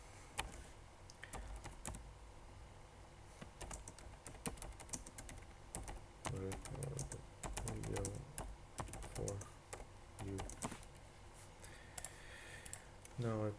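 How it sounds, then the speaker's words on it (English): Rapid, irregular keystrokes on a computer keyboard while a chat message is typed, with clicky taps in close, quiet bursts and some faint speech in the background. "Now I write a message."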